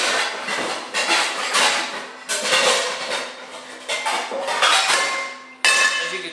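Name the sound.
heavy-duty pan being placed on the stove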